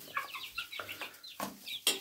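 Indian game chicks cluck softly nearby in a scattered series of short, throaty calls, with no talking.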